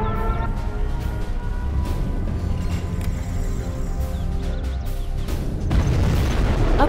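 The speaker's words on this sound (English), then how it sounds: "Warning, nuclear missile launched." A nuclear missile strike in the C&C Generals real-time strategy game produces a loud, continuous rumbling boom with layered blasts and debris. It swells toward the end and no voices are heard.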